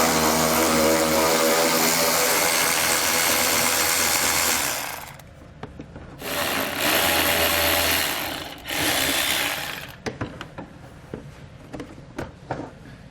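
A power tool whirs loudly and steadily while backing out 10mm bolts that hold the front bumper fascia to the quarter panel of a 2010 Chevrolet Cobalt. It sounds in two runs, followed by scattered clicks and light handling noises.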